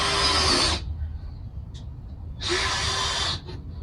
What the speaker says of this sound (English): I'm just going to go down the whole board, screwing in where I want these to go.